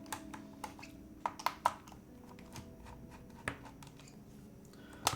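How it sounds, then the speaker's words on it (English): Sparse clicks and clacks of typing on an empty Sat 75 X custom mechanical keyboard with no switches or internal fill, scattered irregular keystrokes, close and fairly quiet over a steady low background hum. "the keyboard sounds great with nothing in it"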